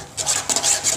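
A spoon scrapes and stirs inside a metal kadai while cooking kachagolla, several quick rasping metallic strokes close up in a short burst.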